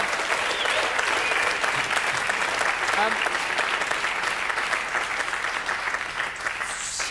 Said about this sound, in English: I think of a round of applause for Chrissie Hynde, ladies and gentlemen.